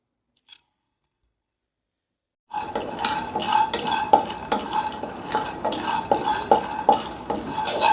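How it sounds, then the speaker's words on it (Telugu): Peanuts dry-roasted and stirred in a kadai on the stove: silence at first, then a continuous dry rattling scrape of nuts and spoon against the pan, close and busy. "స్టవ్ మీద కళాయి పెట్టుకొని ఒక ఇరవై గ్రాముల పల్లీలు వేపుకుందాం"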